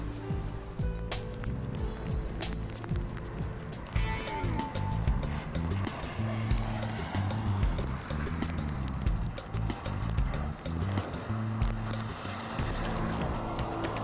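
A Nissan Micra C+C 1.6 cabriolet with the 110 PS engine drives along, giving a steady engine and road hum with tyre and wind noise and a few scattered clicks and knocks throughout.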